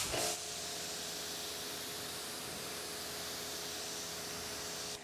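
A ceramic wet-coat spray on a Kia EV6 hisses steadily at close range after a brief start, an even rushing mist of sound with no pauses.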